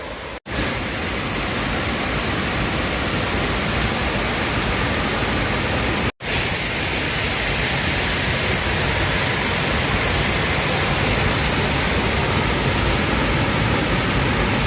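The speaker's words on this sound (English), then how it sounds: "And even more waterfalls." Waterfalls along the Foothills Trail pour with a steady, dense roar of rushing water, constant and loud, unbroken for the whole stretch apart from two brief cuts.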